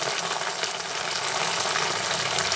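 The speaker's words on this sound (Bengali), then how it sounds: "সর্ষে পোস্ত দিয়ে দিলাম একসঙ্গে অল্প করে ভেজে নিচ্ছি তেলের মধ্যে" Mustard and poppy seed paste frying in oil, a dense, even sizzling hiss that runs steadily throughout, close and moderately loud.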